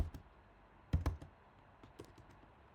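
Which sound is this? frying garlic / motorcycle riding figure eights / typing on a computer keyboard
typing on a computer keyboard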